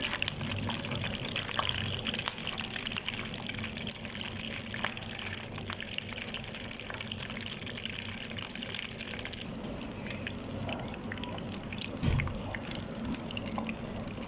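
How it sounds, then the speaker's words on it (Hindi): Chicken and potato kebab patties frying in oil: a steady, soft crackling sizzle that continues evenly throughout at low level, with no talking. "4 से 5 टिक्कियाँ तल के मैं आपको दिखाती हूँ"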